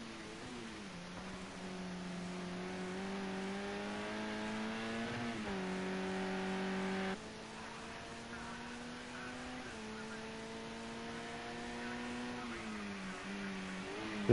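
Touring race car engine at Bathurst in a sim racing game, a steady high whine climbing through the gears with brief drops at each shift, sustained and fairly close throughout.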